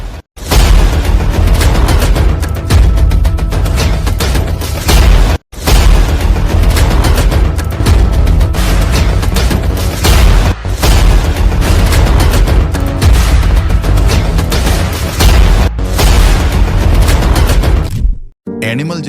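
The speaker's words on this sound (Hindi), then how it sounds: "देखो, यही वाली वो गन मशीन है जो आपने एनिमल मूवी में देखी थी।" Loud, sustained prop machine-gun fire on the set of the Animal movie, dense overlapping bursts and booms running almost continuously with a few brief gaps, heavily compressed and filling the whole stretch.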